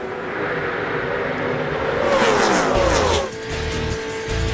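ARCA stock cars roar around the track at a 2003 race, engines loud and continuous as a pack sweeps past with rising then falling pitch, no voices.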